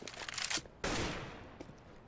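Gunfire in Counter-Strike, a rapid burst of game shots followed by a sharper blast that rings and fades, quiet and heard on its own.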